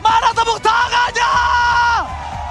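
A packed esports arena crowd roars at the M5 World Championship grand final between ONIC and AP BREN, with loud, continuous cheering, whoops and bellowing shouts close up. A casting voice carries over the din.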